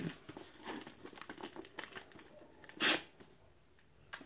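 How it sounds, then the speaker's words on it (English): Brown paper packaging of a book subscription box crinkles and rustles as it is unwrapped, soft scattered crackles with one louder tearing burst near the end, close by and with no talking. "I just love how they're wrapped in brown paper packages tied up with string."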